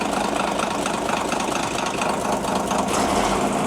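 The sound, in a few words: heavy truck engine idling via remote control throttle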